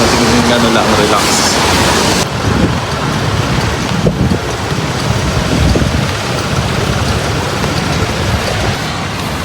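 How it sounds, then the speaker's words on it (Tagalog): Steady rain in Nankan, Taoyuan, Taiwan on a cool day, a continuous dense hiss of falling drops and patter on surfaces that stays loud and close throughout, with a brief break near the start. "So maulan nga ngayon guys,"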